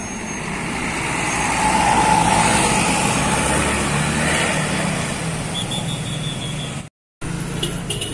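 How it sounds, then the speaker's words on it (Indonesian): A tour bus of the Election line rolls past at a roadside in Galendo, Ciamis, its steady engine rumble and road noise loud and close for several seconds before a brief gap. "Melintas bus Election."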